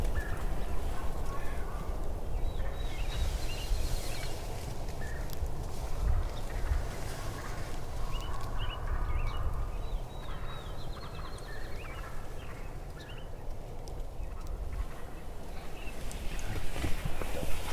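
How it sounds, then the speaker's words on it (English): Turkey hens cluck and call off and on across a noisy outdoor background, scattered soft calls rising over a constant rustling bed. "Hear the hens talking."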